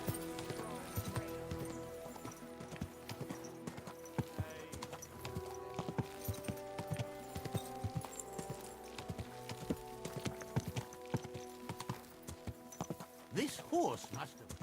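Horse hooves clip-clop at a slow walk in a medieval video game, a steady nearby rhythm running under spoken dialogue and background music.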